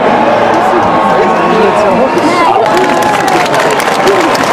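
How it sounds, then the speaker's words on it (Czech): An outdoor crowd at a Christmas tree lighting in Brno cheers and shouts, children's voices among them, with a burst of clapping rising in the second half over the constant chatter and calls. "Velký potlesk!"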